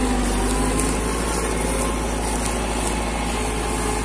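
An imported tractor's engine runs steadily while driving across heavy farm soil, a loud, continuous drone that stays close and even throughout.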